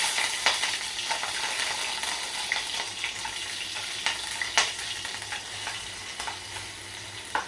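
Chillies, mustard seeds, cumin and garlic crackle in hot oil for a dal-potato dish, a dense, steady sizzle with sharp pops and spits scattered throughout, close and fairly loud.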